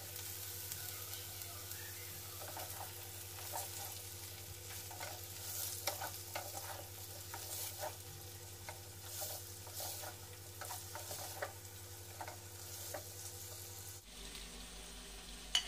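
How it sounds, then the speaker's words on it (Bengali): Steamed vegetables stir-fried in a pan for fried rice, a continuous close sizzle broken by repeated spatula scrapes and clatters, with a low steady hum beneath and no talking. "এবার যে সবজিগুলো আমি ভাপিয়ে রেখেছিলাম এগুলো এবার এর মধ্যে আমি দিয়ে দিচ্ছি।"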